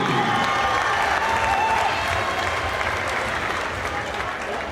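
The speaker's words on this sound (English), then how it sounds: "Big round of applause for your Academy Dance Team." A school gym crowd at a high school basketball playoff game applauds the academy dance team with dense, sustained clapping and a few scattered cheers, loud at first and easing slightly toward the end.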